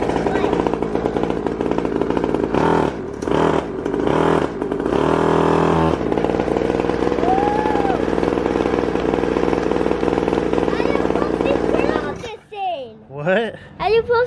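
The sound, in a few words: kids' Syx Moto 50cc dirt bike engine revving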